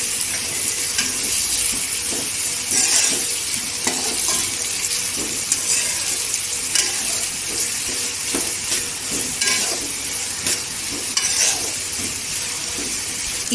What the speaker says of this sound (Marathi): तेलावर परतायचं।